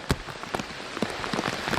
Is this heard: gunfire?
no